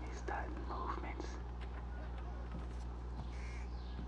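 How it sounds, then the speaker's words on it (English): Crows cawing in the stealth video game Thief, a few harsh caws over a low steady hum with whispery noise and faint speech. "The birds will start chirping."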